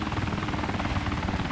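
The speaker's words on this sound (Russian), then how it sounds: "Самолет летит." An aircraft drones overhead in a battle royale video game, a steady loud engine roar with a low rumbling rhythm that holds unbroken throughout, no talking.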